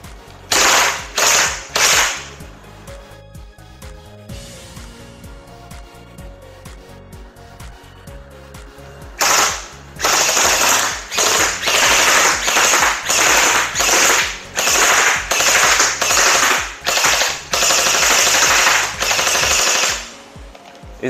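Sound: toy gel blaster gun firing gel bullets

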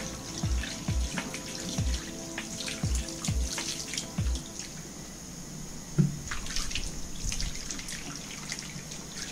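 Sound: water rinsing the outside of a pressure sprayer

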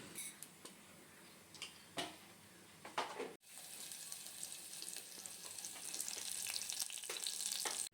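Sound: tempering spices sizzling in hot oil

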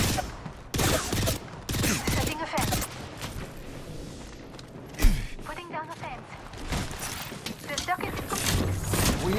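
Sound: gunfire in a video game (Apex Legends)

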